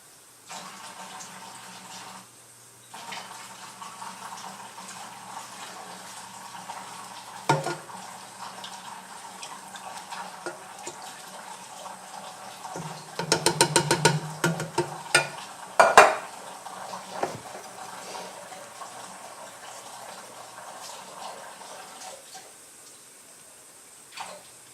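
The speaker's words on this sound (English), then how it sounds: "I'm going to bring these over to the sink and just wash down the walls in all of these cans" Tap water runs into sauce-coated cans at a kitchen sink, a steady wash with clanks and splashes as the cans are swirled and rinsed, louder bursts near the end.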